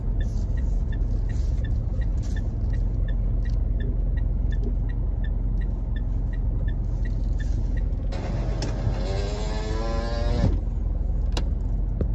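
Steady, loud car engine and road rumble heard from inside a moving car, with faint regular ticking throughout and a brief rising whine near the end, and no speech.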